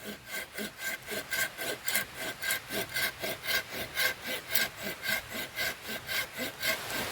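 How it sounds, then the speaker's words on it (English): A Silky folding saw cuts through wood in the jungle with a steady, rhythmic back-and-forth rasp of about three strokes per second, close and loud with no talk. "Now that we've cut down a piece of the wood"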